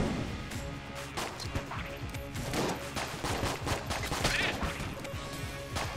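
Dense rapid gunfire from the video game Enter the Gungeon, a busy stream of sharp shots and crashing breaks layered over game music, steady and loud throughout the whole stretch.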